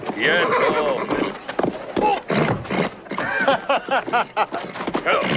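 A horse neighs near the start and hooves clop, mixed in with people talking throughout.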